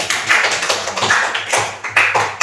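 A classroom audience claps in several quick, uneven bursts of hand claps, close and fairly loud, with brief pauses between rounds and no talking over it.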